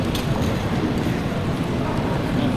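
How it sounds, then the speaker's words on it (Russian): A German RE1 regional train bound for Karlsruhe stands at a station platform, giving a steady, loud, broadband rumble with no distinct clatter or announcements. "А вот и наша платформа, и наш поезд уже стоит на пути, ждет нас."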